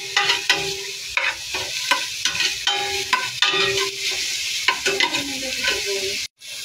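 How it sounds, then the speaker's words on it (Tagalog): Garlic and onion sizzle steadily in a pan for sinigang, with repeated scraping stirs and clinks of a spatula over the constant frying hiss, close and moderately loud, ending with a brief drop to near silence. "nagigisa na tayo ng bawang sibuyas"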